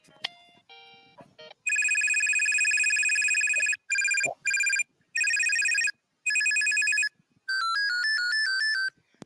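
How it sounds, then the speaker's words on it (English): Electronic ringer tones from a Clear Sounds A700 telephone play in a series of bursts, several different warbling and trilling patterns, each separated by brief silences. "This is one of the ringers on the clear sounds A700"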